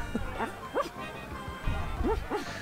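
A voice actor imitates a dog with short 'woof'-style barks, several spaced yips in two clusters, close and clear, for the dog character in The Secret of Monkey Island video game.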